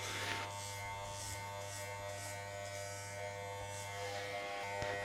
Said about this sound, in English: I'm just taking my time with the clipper and just fading that